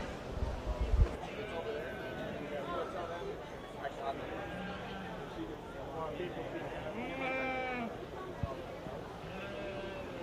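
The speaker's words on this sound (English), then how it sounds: "Our lone Suffolk ewe out here." Sheep bleat repeatedly in a show ring at a 4-H/FFA sheep show, including a Suffolk ewe, the calls overlapping against a busy background while people talk nearby.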